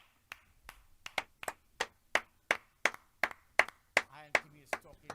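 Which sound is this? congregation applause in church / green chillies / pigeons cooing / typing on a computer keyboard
congregation applause in church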